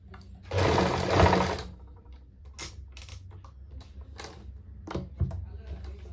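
A sewing machine runs in a quick burst while stitching a kameez, a loud whirring rattle, then stops; softer taps and handling noises of the fabric being turned follow.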